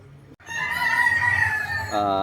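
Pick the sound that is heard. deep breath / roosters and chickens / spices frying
roosters and chickens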